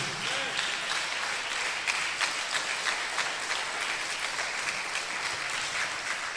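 A church congregation at a French-language sermon breaks into sustained applause and cheering, a dense, steady wash of clapping that fills the room and carries on evenly from start to finish.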